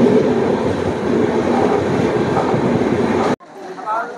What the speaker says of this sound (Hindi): तो जी अब हम आ गए हैं बाढ़ रेलवे स्टेशन। चार प्लेटफॉर्म का रेलवे स्टेशन है।